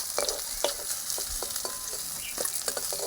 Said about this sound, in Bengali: বাদ বাকি মাছগুলো আবার ভেজে নেবো তাহলে